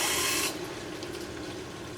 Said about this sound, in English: water has now filled the tank